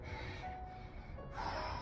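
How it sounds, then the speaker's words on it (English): Heavy breathing after a hard workout, rough gasping and snorting breaths drawn close to the microphone over a steady background hum, with no speech. "recovery breaths."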